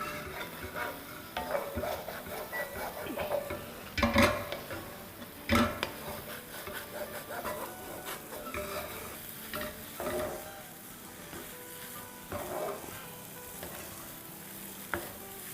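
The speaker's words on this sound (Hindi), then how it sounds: "और इसको अच्छे से मिलाएंगे।" A spoon stirs and mixes food in a single pot on the stove. The scraping is soft and steady, with a low sizzle underneath and a few sharper knocks against the pot.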